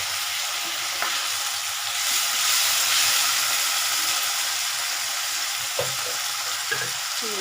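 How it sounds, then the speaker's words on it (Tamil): Onion and tomato fry in a pan for radish sambar, producing a continuous, even hiss of sizzling with a few faint clicks of stirring near the end. "வெங்காயம் தக்காளி வதங்கிறதுக்கு"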